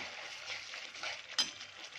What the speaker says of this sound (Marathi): एक मिनिटभर आपण याला छान शिजवून घेऊया